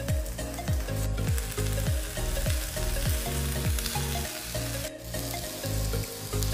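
Fresh paneer cubes sizzling in a hot ghee tempering in a pan for paneer bhurji, a loud, steady crackling fry with repeated scraping strokes of stirring at an even rhythm, close up and with no voices.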